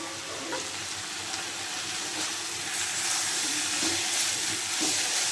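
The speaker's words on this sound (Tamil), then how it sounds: "இது வந்து அந்த எண்ணெயில் மிக்ஸ் ஆகிற மாதிரி அதை நல்லா கிண்டி விட்டுக்கலாம்" Squid being stirred into fried onions in hot oil, a continuous soft sizzle and hiss with faint scraping of the spoon in the pan, fairly quiet and with no voices.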